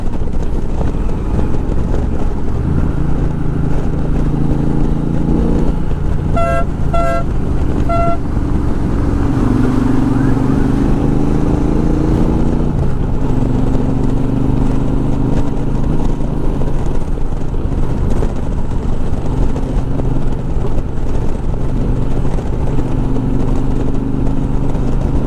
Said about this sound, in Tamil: 120ல் அழகாக வந்து 6வது கீரை போட்டோமா 3000 ஆர்பிஎம் அப்படியே போயிட்டே இருக்கலாம்.